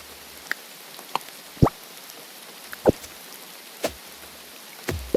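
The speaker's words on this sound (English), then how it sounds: "Raining again." Rain falling in the video game Grimshire, heard as a soft steady hiss with scattered individual drops and plops landing every second or so, fairly quiet with no talking.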